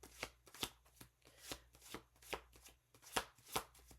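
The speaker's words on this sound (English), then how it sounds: "So I'm using my Jungian tarot deck for this reading." Someone shuffles a Jungian tarot deck in a series of crisp, close riffling bursts that repeat at a steady rhythm, quiet and with no talking.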